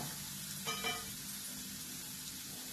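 Sesame seeds roast in a pan on a low gas flame, giving a steady, soft sizzle with a brief scraping stir near the start. No one speaks over it.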